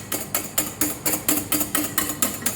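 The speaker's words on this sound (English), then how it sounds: "And as we are whisking, you can see the base of the bowl" Chocolate mousse mixture being whisked in a bowl, a fast regular series of loud scraping, clattering strokes, about four per second, close and alone.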